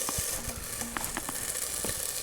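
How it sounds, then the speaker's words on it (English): Oil sizzles in a hot pan while cooking for a lobster roll, a soft continuous frying hiss with scattered small pops and crackles, heard close but at low volume. "So you heard it kind of sizzling. That's because it's hot."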